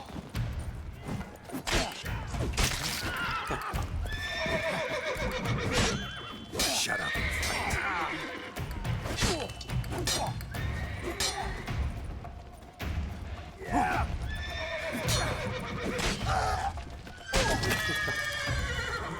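Horses whinny and neigh repeatedly in a Witcher 3 game scene, with hoof clatter and thuds beneath, loud and busy throughout with some voices mixed in.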